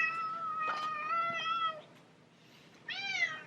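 A pet cat named Tesla meows several times close up, with two drawn-out, wavering cries at the start and another rising meow near the end, set against faint outdoor wind noise.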